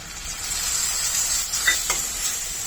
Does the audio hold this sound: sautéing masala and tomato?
yes